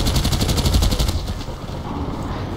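Automatic XM8 rifle fire in the Battlefield Play4Free shooter game on the Oman map, a loud rapid burst of evenly spaced shots that stops after about a second, leaving a rumbling battlefield ambience.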